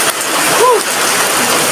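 Steady, loud rain forms a constant broadband hiss throughout, with a brief voice rising over it for a moment.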